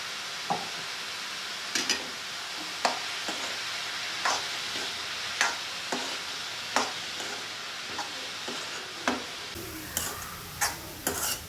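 Roti sandwich filling cooking in a pan on a gas stove, a low sizzle broken by regular close taps and clinks of a utensil against the pan, with no one speaking.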